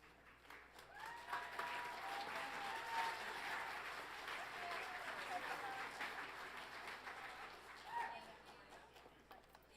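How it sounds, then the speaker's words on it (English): Sustained applause from an audience at an awards ceremony for media arts award winners and nominees, a dense even wash of many hands clapping for about ten seconds with a slight swell near the end. "let's give one more round of applause to all of our award winners, nominees, and submissions"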